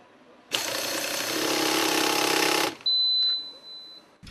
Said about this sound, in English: An operator is using the Yokota system wrench YED90 for tightening steering housing bolts.